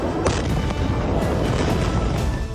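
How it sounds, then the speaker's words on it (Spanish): Footage of the devastating explosion in Beirut: a loud, continuous roar of blast and rumbling debris with sharp pops and cracks layered through it, filling the whole stretch. "Devastadora explosión en Beirut"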